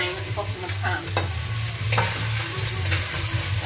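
Chicken pieces sizzling and sticking in a frying pan while being stirred, with steady loud frying hiss and scattered scraping clicks as the pieces are pushed across the pan bottom.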